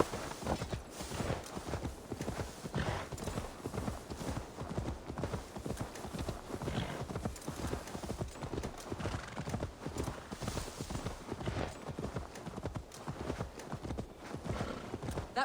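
Steady clip-clop of horse hooves walking at an even pace in Assassin's Creed Valhalla, continuous and fairly close, with a faint whinny in the mix.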